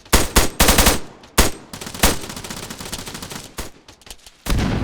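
Video game battle gunfire rattles out loud and close in sharp bursts and single cracks, with uneven gaps between shots and a heavier burst at the end.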